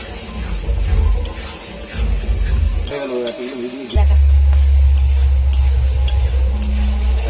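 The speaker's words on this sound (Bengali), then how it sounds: "টমেটো বাটাটা দিয়ে দিলাম, টমেটো বাটাটা দিয়ে একটু ভালো করে কষাতে থাকবো" Tomato paste sizzles and fries loudly in hot oil while being stirred, with steady crackling hiss, a brief scraping clatter, and then a louder, denser sizzle that continues to the end.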